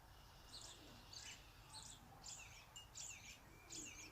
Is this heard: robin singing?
yes